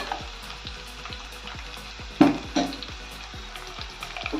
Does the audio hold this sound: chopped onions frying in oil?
yes